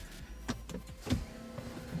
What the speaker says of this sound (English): Steering wheel comes down, seat moves forward, and all that good stuff.